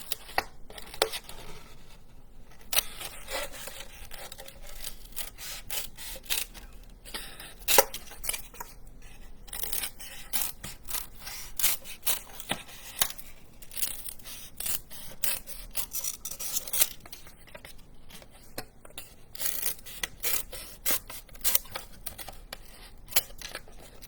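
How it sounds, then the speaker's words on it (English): Quiet, repeated snipping and crisp paper rustling as scissors cut out paper building shapes, irregular close-up cuts continuing steadily with short pauses, no voices. "you are going to take your scissors, and you are going to cut your buildings out"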